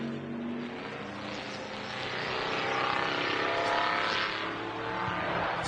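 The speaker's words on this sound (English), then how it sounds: "You can hear that Ford engine in the Keeler really rumbling away." The Ford engine of a Keeler race car at a Le Mans Classic round at Montjuïc, Barcelona, rumbles continuously, a dense throaty roar that builds gradually and holds strong, with no talk over it.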